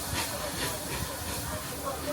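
A steam train on the Watercress Line hisses steadily at the station, a broad continuous rush of steam with a faint rumble underneath and no clear pauses.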